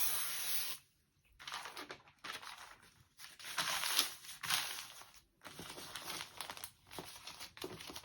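Adhesive spray hisses onto tearaway stabilizer for a sweater embroidery project in several close, short bursts separated by brief pauses, quiet overall with faint crinkling.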